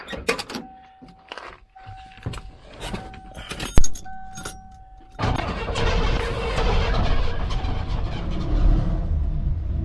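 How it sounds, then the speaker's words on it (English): Keys jingle and a car door thuds shut, then an old Ford's engine starts and runs steadily as the car pulls away, loud and close. "So now we get in the old Ford, drive around the corner."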